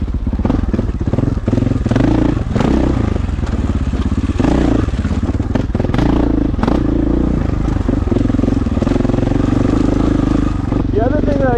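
A Husqvarna 501 dirt bike engine on Idaho backcountry single track, loud and close, chugging and revving unevenly at low speed with clatter from the trail, while someone talks over it.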